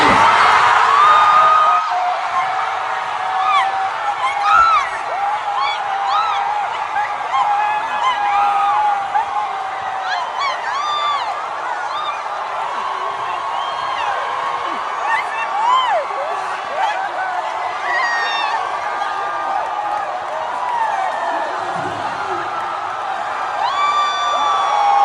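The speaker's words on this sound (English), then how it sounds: "look at this crowd of people, out of their minds with excitement when they heard that Mamdani had won" A large crowd celebrating Zohran Mamdani's election win, a sustained wash of cheering, whoops and excited voices that stays loud and steady throughout.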